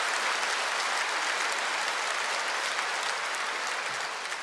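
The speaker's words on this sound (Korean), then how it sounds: "큰 박수로 목사님을 맞이하시겠습니다" A church congregation applauding to welcome a pastor, dense and sustained clapping from a large crowd, steady and loud across the whole stretch without talk.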